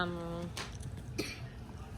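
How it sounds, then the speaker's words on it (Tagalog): A voice trails off, then a couple of short, sharp coughs sound close by against a quiet background. "may inuubo po dito"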